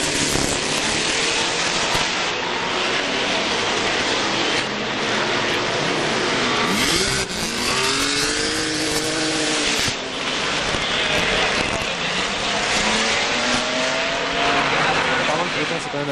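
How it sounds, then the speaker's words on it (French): Two identical historic Maserati race cars battle at the Monaco historic Grand Prix, engines screaming loud and close as they rev and pass, with a commentator talking over the roar. "là on a les deux Maserati identiques qui se tirent une jolie bourre"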